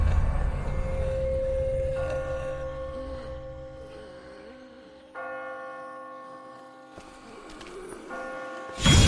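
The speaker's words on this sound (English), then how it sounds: "I just got spooked by those bells" Church bells ring out in The Walking Dead video game, clear sustained tolling tones that decay and strike again, moderately loud with an ambient background.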